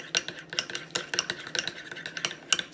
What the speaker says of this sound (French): vous prenez simplement de la bonne vieille moutarde de baseball, un petit peu de miel, mélangez ça ensemble